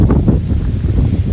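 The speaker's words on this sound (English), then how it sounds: "This breeze is insane." Strong gusty wind buffets the microphone beside a railway line with a loud, continuous roar that surges and eases in uneven pulses.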